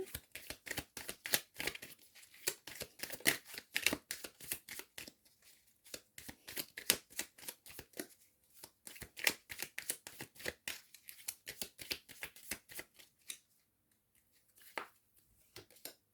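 Tarot cards shuffled by hand in a long run of rapid, dry clicking and flicking slaps, close and fairly quiet, thinning out toward a near-silent pause and a final soft tap.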